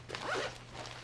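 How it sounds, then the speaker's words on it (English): A zipper on a travel desk bag is pulled, one short close raspy zip lasting about a second, alone. "there's a much longer zipper that goes all the way around there"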